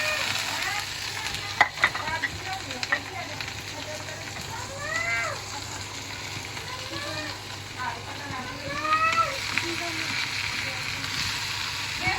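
Onions fry in a little leftover oil after taro pieces, making a continuous close sizzle with occasional stirring scrapes. Intermittent voice-like cries rise over it.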